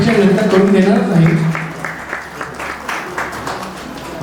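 Applause from a crowd gathered for a Buddha statue installation ceremony at a Buddhist vihara in Lohegaon, Pune, steady clapping lasting several seconds with a voice speaking over its opening moments.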